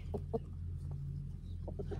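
Chickens cluck in short, soft bursts close by over a low steady hum, with a few quick clucks scattered through the moment.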